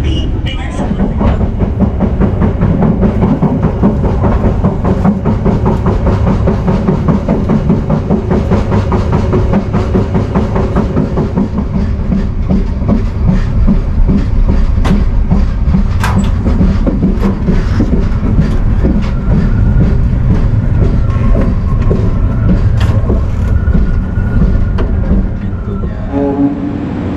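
An Airlanga economy-class train runs on the rails between Jakarta and Surabaya, heard from inside as a loud, steady rumble with rhythmic clickety-clack of the wheels and occasional sharper knocks throughout.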